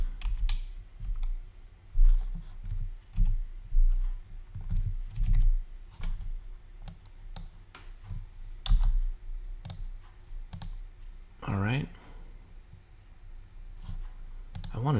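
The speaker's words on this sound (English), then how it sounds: "Wanted to type that number in." Fingers tap on a computer keyboard while working in Revit 2017 software, a series of light, close clicks in short uneven bursts, with a voice talking over them.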